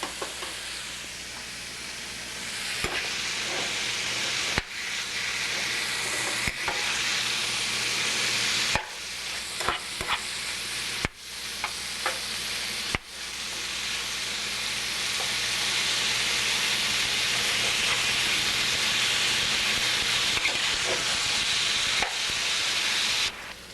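Beef browning in olive oil in a pan, alongside mushrooms and onions, a loud, steady sizzle close up, broken by several sharp clacks and brief gaps, then a long unbroken stretch of frying.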